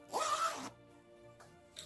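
An invisible zipper is pulled open in one quick, close rasp, followed by quiet handling noises and a small click at the end.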